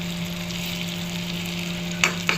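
Shrimp fry in a pan with a dense, steady sizzle over a low hum, then two quick scraping stirs near the end.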